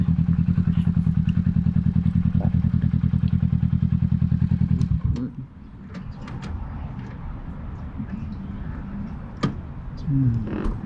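A 2020 Kawasaki Ninja 650 engine drones loud and steady while riding, then drops off abruptly around the midpoint into quieter road and wind noise with a few thumps.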